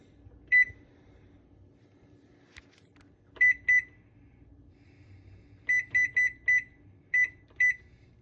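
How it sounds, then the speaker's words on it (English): A kitchen timer is set for 15 minutes while biscuits bake. Sharp electronic beeps sound singly, then in pairs, then in a quick run of several, against a quiet room hum. "Now we'll set our timer for 15 minutes"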